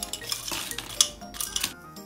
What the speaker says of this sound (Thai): เติมน้ำแข็งลงไปนะคะ